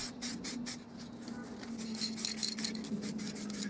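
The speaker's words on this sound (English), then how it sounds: "I applied some spray varnish." A continuous hissing of spray varnish with short bursts and pauses, close by, steady and fairly loud throughout, applied to a vintage display cabinet.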